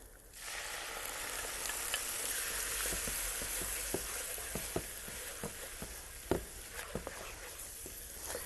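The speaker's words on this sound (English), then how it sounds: "I'm going to add my chopped tomatoes" Chopped tomatoes dropped into a pan of sizzling onions set off a steady, soft frying hiss, topped with scattered wet pops and spatters from stirring, heard close and alone.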